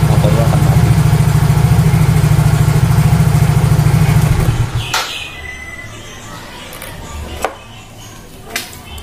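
A motorcycle engine with DC ignition idles with a loud, steady low throb for several seconds, then stops abruptly, leaving quiet handling clicks and a couple of sharp knocks.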